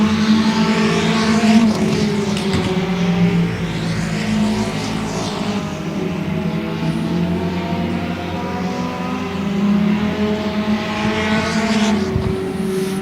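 Front-wheel drive race cars run time trials at Smoky Mountain Speedway, engines droning and revving steadily as cars pass one after another, with a loud continuous roar that swells and fades over several seconds.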